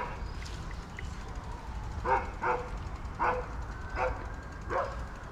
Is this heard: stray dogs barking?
yes